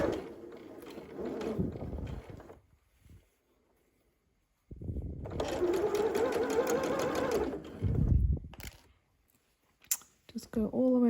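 A domestic sewing machine stitches a sleeve into a blouse in two close, loud whirring runs separated by a pause, with a voice talking between and around the stitching.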